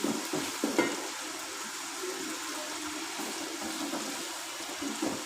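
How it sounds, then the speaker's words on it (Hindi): Steady, hissing sizzle of garlic frying in a pan, with a few scraping stirs near the start; no talking. "एक दो मिनट के लिए इसको भून लेंगे, इसकी स्मेल ख़त्म हो जाए कच्ची।"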